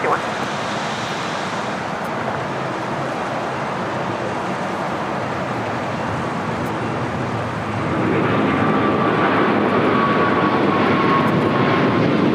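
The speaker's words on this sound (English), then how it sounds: "777 now rolling down at 25 right." A Boeing 777 takes off on runway 25 Right at LAX, a loud, continuous jet roar with wind-like hiss that swells stronger partway through, with faint voices under it.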